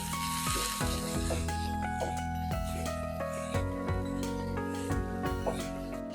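Crushed coconut, shallots and green chili stir-frying in a hot pan, a steady dense sizzle with repeated scraping stir strokes, close and continuous, no talking.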